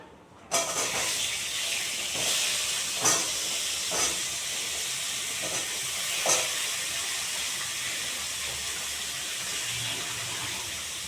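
Pointed gourd and potato hit hot spiced oil with a loud, steady hiss of frying that continues throughout, broken by a few sharp spits and crackles.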